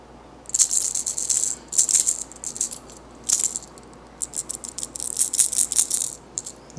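A Quake 70 5/8 ounce craw fishing lure rattles when shaken, giving bursts of bright, close rattling in irregular clusters with short pauses between them.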